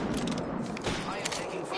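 Rapid bursts of gunfire in an Apex Legends match, close and sharp, with a voice talking over the shots.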